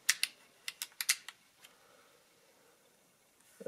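A mechanical Addometer adding machine made by the Reliable Typewriter and Adding Machine Company being worked: a quick run of sharp, close metallic clicks, a pause, then a couple more clicks.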